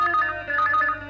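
A telephone rings indoors with a steady electronic double-tone trill, repeating in short bursts, clear and fairly close, with no talk over it.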